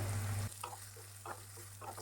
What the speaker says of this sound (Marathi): कढीपत्ता टाकलेला आहे, लसूण ठेचलेला तो टाकलेला आहे. व्यवस्थित तळून घ्यायचं आहे